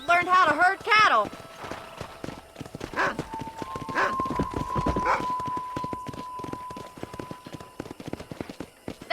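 Horse hooves clip-clop at a walking pace while moving cattle from a farm's cow pen in Red Dead Redemption, a steady string of close knocks under a voice and a neigh at the start, with a faint tone sustained midway.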